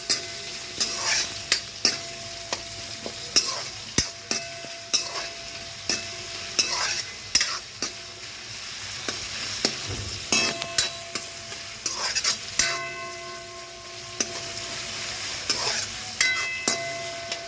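Onions stirred and frying in a pan until reddish, with steady sizzling broken by repeated scraping and clinking strokes of a spoon against the metal, close and fairly loud with no talking.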